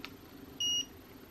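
A Bluetooth headphone connection beep, a single short electronic tone over faint background hum, quiet and alone.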